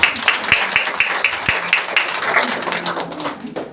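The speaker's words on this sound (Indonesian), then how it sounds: "Give Jesus a clap offering." A church congregation in Malaysia claps together in a dense, steady wash of hands, with sharp regular beats cutting through at a brisk rhythm.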